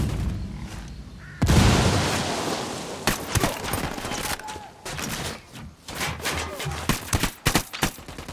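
Gunfire and blasts in Ghost Recon Wildlands, with a heavy grenade explosion that erupts into a sustained roar under rapid bursts of shots and sharp impacts, loud and close, with some shouting mixed in.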